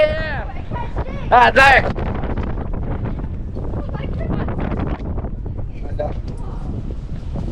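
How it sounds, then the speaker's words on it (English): Strong wind buffets the microphone on the upper deck of a cruise ship, a loud continuous roar with gusty surges under brief excited speech from a person nearby. "It's so windy up here."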